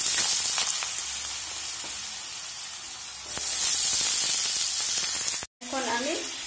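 Potatoes dropped into hot oil for a Bengali potato and brinjal fry, a loud steady sizzle up close that briefly cuts out before a louder hiss resumes.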